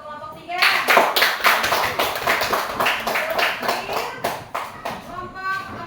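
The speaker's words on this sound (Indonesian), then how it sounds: "kita kasih aplaus dulu untuk kelompok 3" A classroom audience of teachers claps for a presenting group, a brisk burst of many hands that starts suddenly, stays fairly even and close, then thins out toward the end.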